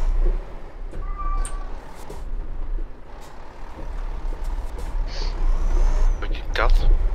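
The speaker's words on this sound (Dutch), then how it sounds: "Ja, dat is bij mij de kat. Staat te schreeuwen dat hij naar buiten wil." A house cat meows and yowls repeatedly at the door, wanting to be let outside, heard close over a steady rumble of truck and air-brake sounds from a driving game, with people talking.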